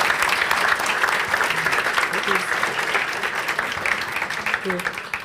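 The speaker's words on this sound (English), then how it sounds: "Round of applause." An audience claps after a business and digital innovation semi-final presentation, a steady, dense round of applause at full volume with faint voices beneath it.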